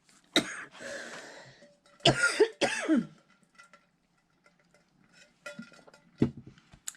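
Several coughs and a throat clear, close and fairly loud, with a short pause between bursts and faint clinking in the background.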